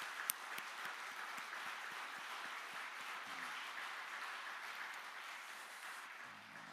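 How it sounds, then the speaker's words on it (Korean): A church congregation claps during a Sunday worship service, a steady wash of applause that carries on evenly throughout without voices over it. "앞으로 박수는 크게 치도록 하십시다"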